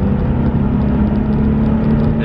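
A Nissan 370Z convertible accelerates hard in third gear from low revs, its engine a steady, loud droning rumble that holds nearly even throughout.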